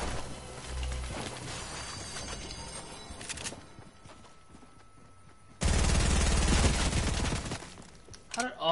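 Video game gunfire rattles in bursts, with rapid automatic fire at the start and a dense, loud volley later, separated by quieter stretches of game ambience.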